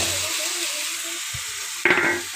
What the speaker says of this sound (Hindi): अच्छी तरह से मिक्स कर लें इसको।